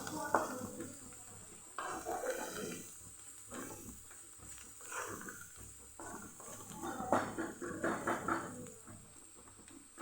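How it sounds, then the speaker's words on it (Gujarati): Fenugreek greens sautéing in a pan on a gas stove turned low, with a soft sizzle and intermittent stirring scrapes, faint and fairly close, a voice occasionally heard. "બસ આમ જ આપણે સાતળશું"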